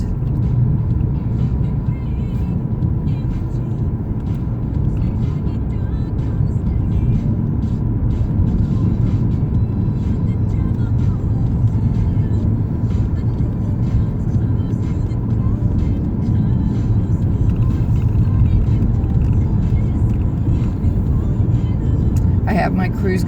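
A car cruises at a steady 45 mph down a back road in Delaware, a loud continuous interior road rumble and engine drone that holds even for the whole stretch.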